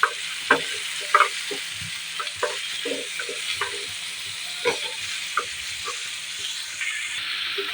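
Onion, tomato, ginger, garlic and spices frying in a pan with bay leaf, giving a steady close hiss and crackle broken by repeated sharp clicks and scrapes of a stirring spoon against the metal.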